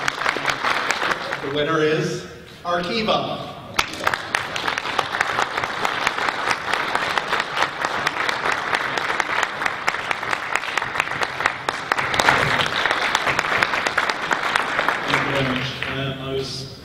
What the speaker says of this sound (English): You can please give them a round of applause for their...